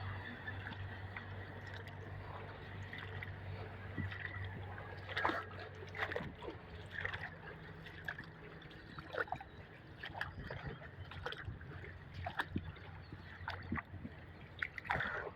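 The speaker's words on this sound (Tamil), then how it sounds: "தண்ணி வாய்க்காந்திலே உப்பிக்கிட்டு போகுது" Irrigation water runs through an earthen channel in a maize field, a low, quiet gurgling and trickling with occasional splashes, heard close and alone.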